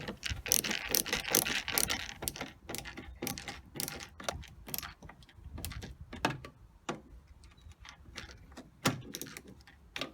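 A ratcheting screwdriver or similar tool snaps in quick bursts of clicks while screws are tightened on a VW T5 Transporter brake light, with irregular pauses and fumbling handling noises between runs.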